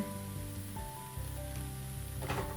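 Butter sizzling in a pan of semolina toffee mixture, a moderate, close hiss with light crackle, while a low melodic background tone shifts pitch underneath.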